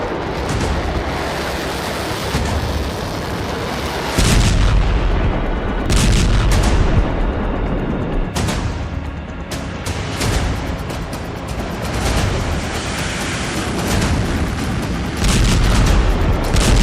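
Heavy booming blasts from bombing in Beirut roll out one after another over a constant deep rumble, loud and washed out, with no voices.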